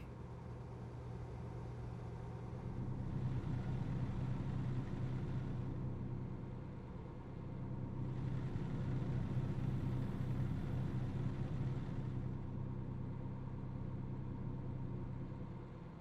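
A truck engine in American Truck Simulator drones at a steady low idle, swelling twice as it revs up and then settling back, with no voices.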